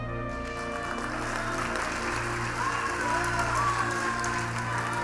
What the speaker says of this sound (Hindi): धर्मेंद्र जी ताली बजा रहे कि नहीं बजा रहे